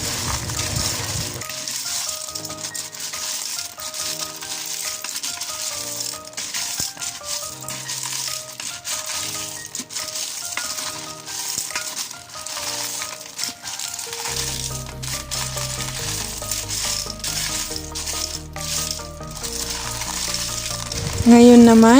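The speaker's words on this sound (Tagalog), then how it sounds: "Haluin natin itong mabuti." Sautéed snails (ginisang suso, an Ilocano dish) sizzling loudly in a pan while being stirred, continuous frying hiss with scraping and rattling of the shells against the pan, and tonal music playing underneath.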